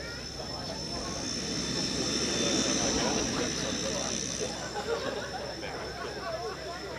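A Pitts muscle biplane flies aerobatics at an airshow, its propeller engine a steady distant drone that swells and fades slightly, heard under a loudspeaker commentator's voice.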